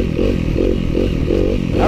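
A 2015 Yamaha WRF 250 dirt bike being ridden, its engine a loud, steady, throbbing drone close to the rider with a pulsing rhythm and some rattle.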